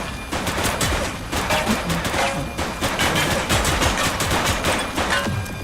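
Rapid gunfire in the police video game The Precinct, dense bursts of shots cracking in quick succession throughout, loud and close, like a sustained firefight.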